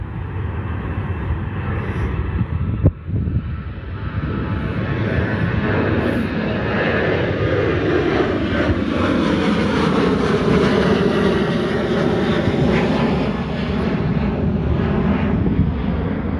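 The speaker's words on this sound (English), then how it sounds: "oh, there goes the airplane." An airplane roars steadily overhead at Liberty Station, San Diego, its engine drone swelling and shifting in pitch as it passes, loud and continuous.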